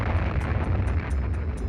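A massive wartime mine detonation at the World War I Messines Ridge battlefield, 1917, rendered as a deep, continuous rumbling roar that holds steady and loud throughout, with no voices.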